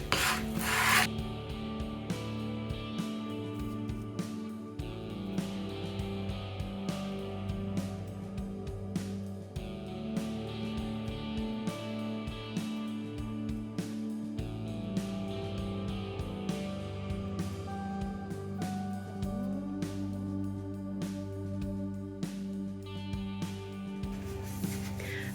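A brush rubs Mod Podge onto the seams of rough pallet wood, a close, quiet, continuous scratchy stroking with a steady rhythm of repeated strokes.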